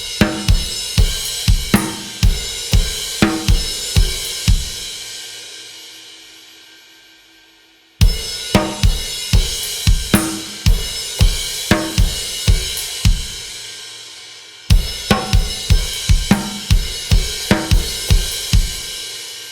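A full drum kit plays the finale of a song, with kick, snare and ride cymbal hits in a driving, accented pattern. The passage is played loud and close three times, each pass breaking off and then restarting.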